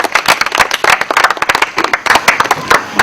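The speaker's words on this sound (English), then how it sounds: "let's welcome him with a very big hand clap." An audience claps loudly and steadily to welcome Mr. Opio at a public talk on insecurity in Uganda. The clapping is dense and close-sounding, with nobody speaking over it.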